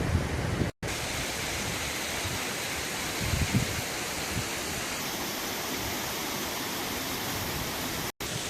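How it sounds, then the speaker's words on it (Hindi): Water from two natural mountain waterfalls near snowy Gulaba and Rohtang rushes in a steady, dense, hissing roar, loud and continuous, with no voices over it. "ये सामने जो देखो पहाड़ों में 2 नेचुरल वाटरफॉल आ रहे हैं, उन्हीं का पानी होगा ये शायद"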